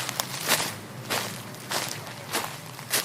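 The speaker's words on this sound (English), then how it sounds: "Then came the sound of footsteps, impossibly heavy, marching toward the village." Impossibly heavy footsteps march steadily toward a village, each thudding stomp landing about half a second apart, loud and alone with no voices.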